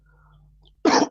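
A single sharp cough bursts out near the microphone from a speaker coming down with flu, following a quiet stretch of faint background hum.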